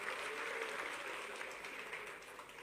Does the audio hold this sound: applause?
yes